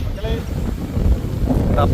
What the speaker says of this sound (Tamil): காற்று வேற பயங்கரமாக அடிக்குது